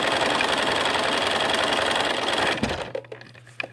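A sewing machine runs loud and steady while back stitching, then cuts off abruptly into a few quiet clicks and handling sounds.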